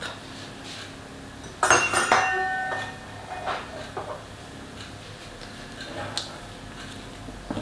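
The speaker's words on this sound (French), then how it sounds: "nettoyer un peu mon fouet" A metal whisk taps and clinks against a bowl while being cleaned after mixing praline cake batter, a short cluster of bright knocks followed by a few scattered lighter taps in a quiet kitchen.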